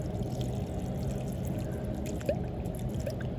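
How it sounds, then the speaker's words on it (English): Water pours steadily out of an aquaponics system used for growing trees, a continuous close gushing flow with a small splash near the end and no talk. "And the water flow is slowly increasing as well."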